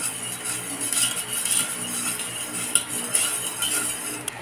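Spoon stirring a dessert mixture of evaporated and condensed milk in a pot, with continuous soft swishing and occasional light metallic clinks of utensil against the rim, close up and without voices.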